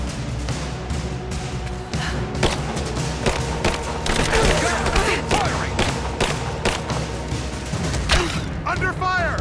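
Gunfire in the Rise of the Tomb Raider video game: a dense, continuous stream of shots and thuds over several seconds, loud and close, mixed with shouting voices and game sound.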